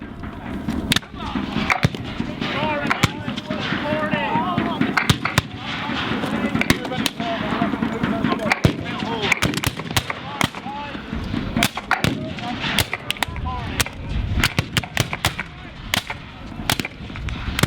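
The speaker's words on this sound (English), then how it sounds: "Steady lines, volley fire, firing by file, firing by rank." Civil War reenactment battle between Union and Confederate lines, with repeated musket volleys and file firing cracking out in dense, irregular bursts over a steady crowd-and-field background, loud and continuous throughout.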